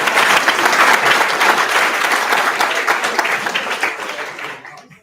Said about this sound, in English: Clap for Ben.